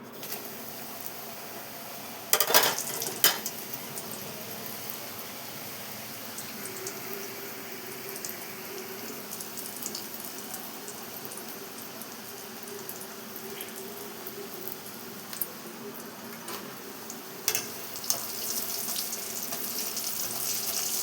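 Hot oil in a pan gives off a steady, soft frying sizzle as snacks cook. There are a few sharper bursts where pieces drop in or get moved, and no talking.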